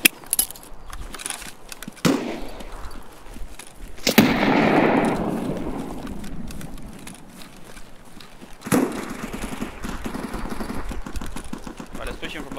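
Gunshots in the video game Escape From Tarkov on the Customs map near the railway during a 2 vs 2 match: sharp cracks at about 2, 4 and 9 seconds over steady game ambience, with muffled background noise between the shots.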